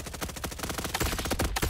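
Rapid pistol gunfire in a Roblox Call of Duty-style shooter game, a dense fast string of shots cracking loud and close for under two seconds with no pauses.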